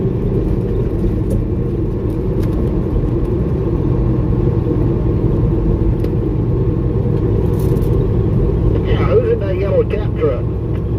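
A yellow Caterpillar truck rolls past with a steady low engine rumble and tire whir, holding at an even level throughout, with a brief faint squeal near the end.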